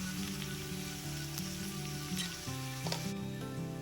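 Brinjal pieces fry in a pan with a soft, continuous sizzle and crackle, while a simple melodic tune plays clearly over it.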